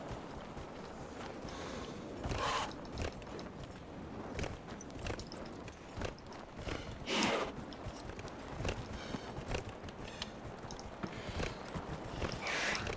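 In the video game Dragon Age: Inquisition, a horse's hooves clop unevenly as it climbs a mountain, with scattered thuds and scrapes over a constant faint background.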